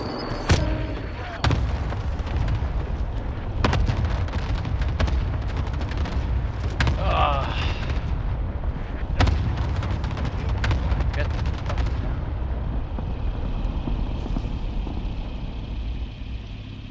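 Cluster bombs going off during a team shooter match, with scattered sharp blasts and gunshots cracking over a constant rumbling bed. Players talk throughout.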